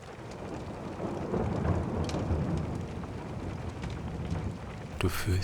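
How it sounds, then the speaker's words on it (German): Thunder rumbles low and long through a steady hiss of rain falling around a mountain hut, a heavy continuous wash of sound with a sharper crack near the end. "während du dem Gewitter lauschst"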